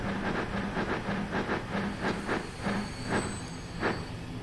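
A train pulling into a station in the game Transport Fever 2, with a steady rhythmic clickety-clack of wheels over rail joints under a continuous rolling hiss, moderately loud and even throughout.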